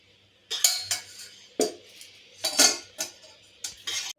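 A utensil clinks and scrapes against a bowl while idli batter is mixed with a sweet solution, several short knocks in an uneven rhythm, close and fairly loud, no talking.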